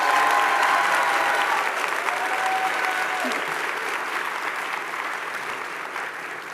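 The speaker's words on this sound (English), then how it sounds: "Let's give him a big round of applause." Town hall audience applauding in a sustained, dense clapping that fills the room, loudest at the start and slowly tapering off over several seconds, with no clear speech.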